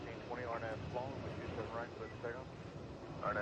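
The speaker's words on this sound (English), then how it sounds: "This is American 1037, headed to Philly, Airbus A319." An American Airbus A319 airliner bound for Philadelphia produces a continuous broad engine roar throughout, with a voice talking over it.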